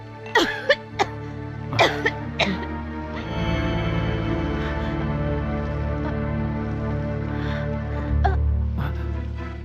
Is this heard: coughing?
yes